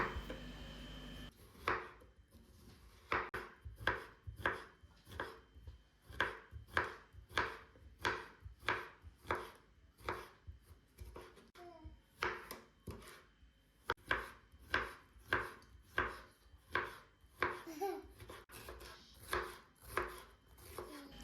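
A knife slices cucumber into small strips on a cutting board, a long run of crisp, evenly spaced cuts with brief pauses, close up and clear.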